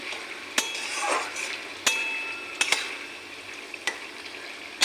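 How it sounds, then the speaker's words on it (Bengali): A utensil stirs ridge gourd and prawn curry in a pan over a soft sizzle, with sharp scrapes and clinks against the metal at irregular moments, close and fairly loud. "এখন সব উপকরণগুলি মিশিয়ে নিই"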